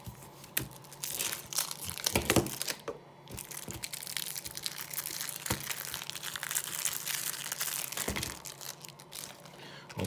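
Plastic wrapper crinkles, crunches and tears as a Trismegistus card deck is opened by hand, with close, irregular bursts of crackling running steadily for about ten seconds.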